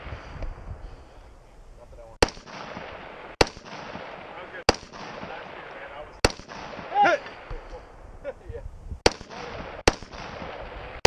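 Rifle shots fired at long-range steel targets during a multigun competition, seven sharp evenly spaced cracks over steady outdoor background noise, with a brief faint voice midway.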